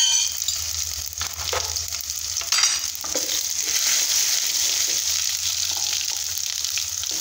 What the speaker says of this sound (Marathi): आपण फोडणीसाठी तेल गरम करून घेतलेलं आहे. लसूण टाकून घेऊ, आलं पेस्ट, जिरे मोहरी,